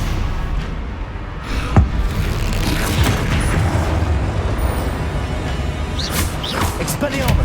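Confringo fire spells bursting in Hogwarts Legacy amid a dense, busy combat din, with booming blasts and crackling impacts layered over a constant rumble, a sharp hit near the start and bright flares toward the end.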